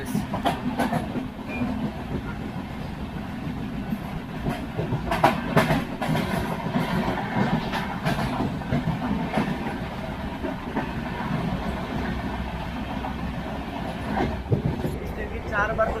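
The 12138 Punjab Mail, India's oldest train, runs at speed after departing Nashik and crosses the Kushinagar Express, producing a loud continuous rumble with rhythmic clickety-clack of wheels over rail joints and brief whooshing bursts as the trains pass.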